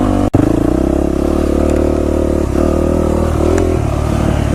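A dirt motorbike rides through slick mud on a wooded trail, its engine droning loud and steady with revving surges and a brief clatter near the start.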